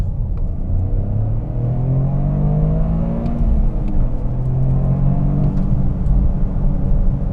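A 2023 Toyota GR Corolla rally-inspired AWD hatch revs from inside the cabin, a loud, close engine rumble rising and falling in pitch through the gears with no talk.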